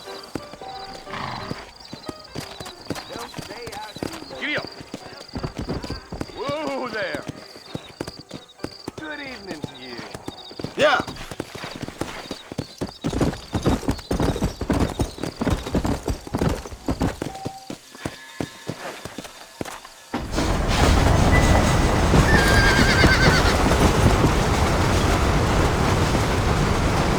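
Galloping horse in the Red Dead Redemption video game, hoofbeats and a whinny mixed with spoken dialogue and game sounds, ending in a loud, dense rush of rolling noise.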